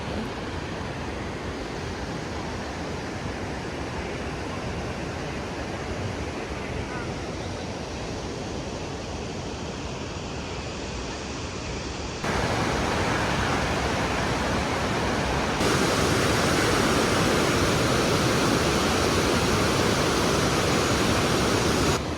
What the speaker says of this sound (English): enjoying the big river flowing beside me.